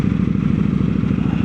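An Indian Scout Rogue V-twin motorcycle fitted with a Jekill and Hyde exhaust rumbles steadily nearby. The low, evenly pulsing engine note is loud and continuous, with no voices.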